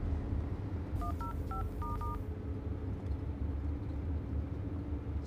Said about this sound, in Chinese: 我赶紧给他们打个电话。